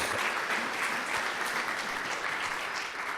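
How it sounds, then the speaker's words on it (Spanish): A church congregation clapping during a service, dense, sustained applause filling the room at an even level, without voices on top. "Dele palmas al Señor"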